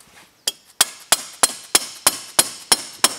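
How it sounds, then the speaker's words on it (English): Metal taps on a Polaris ATV brake disc as it is driven back onto its shaft: about eight sharp, evenly spaced hammer strikes, close and clear, each with a short ringing decay, with no talk. "with everything lined up, we just want to gently tap it back onto the shaft."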